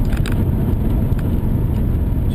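A Whipple supercharged VQ Statesman with a 355 engine making about 450 rwhp pulls away in a takeoff, its loud dense engine roar filling the clip close up and steady throughout.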